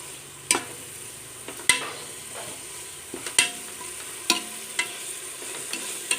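Cinnamon, cloves, star anise and fennel seeds frying in oil, a low sizzle punctuated by irregular sharp pops and spatters, close and fairly quiet.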